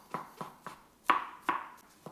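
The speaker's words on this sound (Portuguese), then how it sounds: "aqui é importante que você tenha o seu cogumelo bem lavadinho e vamos picando" Washed mushrooms being finely chopped with a knife on a board, about six crisp chops in a steady rhythm, close and clear with no talk.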